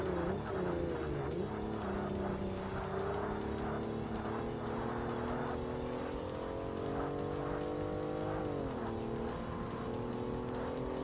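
A race car in the Forza Motorsport video game drones steadily on a low-power professional track, its engine pitch dipping under braking and climbing again as it accelerates out of the corner, continuous and fairly quiet with no talk.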